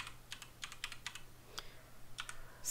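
Clustered keystrokes typed on a computer keyboard while writing HTML table code, quick irregular bursts of soft clicks with brief pauses in a quiet room.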